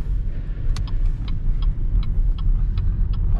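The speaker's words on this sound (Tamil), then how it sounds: "அதனால் டாக்ஸி எடுத்தாச்சு." A taxi drives along in China with a steady road rumble and a faint, regular ticking like a turn signal, and no voices.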